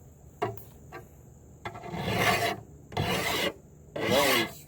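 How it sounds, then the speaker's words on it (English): A file rasping along the blade of a brush hook in repeated strokes, a few short scrapes followed by three longer, louder grinding passes, up close and alone with a faint steady hum behind. "I sharpen it with a file."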